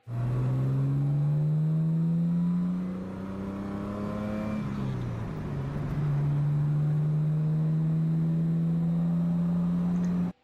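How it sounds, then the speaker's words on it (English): A car engine revs up through a lower gear, dips as it shifts, then climbs steadily again in a higher gear, loud and continuous with a droning rising pitch. "goes through a big RPM span in the lower gear and then shifts to a higher gear where it again accelerates"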